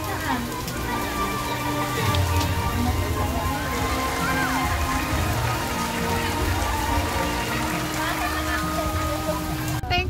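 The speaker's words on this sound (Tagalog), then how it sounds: "ang lakas po ng ulan mga kajali" Heavy rain pours steadily throughout, a dense constant roar of drops with faint voices and splashing mixed underneath, near a tall slide.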